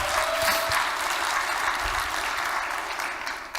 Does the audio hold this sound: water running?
no